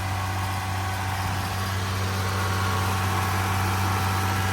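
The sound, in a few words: car engine idling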